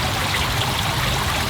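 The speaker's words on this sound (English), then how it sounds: "we've got this gorgeous waterfall on these awesome little rock formations" A small waterfall spills over little rock formations at the Lincoln Park lily pond in Chicago, a steady close trickling and splashing wash with no voices.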